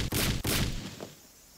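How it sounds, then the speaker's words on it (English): Loud heavy banging on a door in the Higurashi visual novel, two or three forceful booming impacts close together, then a fading tail, with no talking. "Shion banged on the door."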